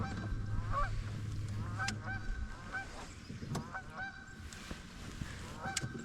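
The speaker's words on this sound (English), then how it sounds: "Goose is headed back to its nest finally." A goose on a pond honks repeatedly, its calls sometimes close and sometimes farther off, spaced unevenly over a soft ambient outdoor background with no talking.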